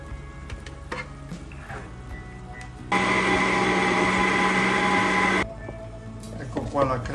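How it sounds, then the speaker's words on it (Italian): A blender whirs loudly for a couple of seconds at a steady, dense pitch, pureeing beetroot soup, with quieter kitchen clatter before and after. "A questo punto frulliamo tutto in un frullatore."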